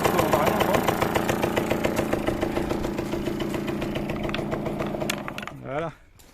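A Yamaha DT 50 enduro moped, running again after fifteen years of disuse, idles with a steady, close two-stroke putter for most of the stretch, then stutters and cuts out near the end.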